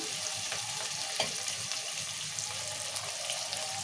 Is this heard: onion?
yes